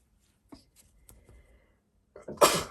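A single loud sneeze bursts out near the end, close to the mic, after quiet rustling from a craft workspace where a card is being made with paint and foam.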